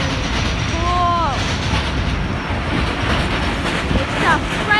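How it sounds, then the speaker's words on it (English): Freight train passing a station at Lamač, a steady rumbling roar throughout with brief high wheel squeals, loud and close, with a person's excited voice over it. "Finally, it's a freight train."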